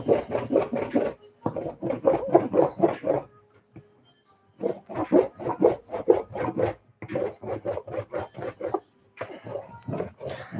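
A bar of surf wax is rubbed over a surfboard in rapid bursts of rough, rasping strokes, close and loud, with short pauses between the bursts.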